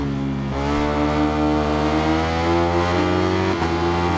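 Ducati motorcycle engine at high speed in the racing game Ride 5, a loud, steady high-pitched drone holding one tone, with a slight dip and shift near the start and again late as gears change.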